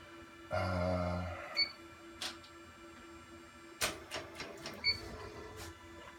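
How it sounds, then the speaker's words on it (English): A cap embroidery machine set up with a flat frame for baseball caps drives its frame to the centre position with a brief motorised whir, followed by scattered mechanical clicks and taps in a quiet room. "The machine has been set actually to a different position, so I'll just set the machine."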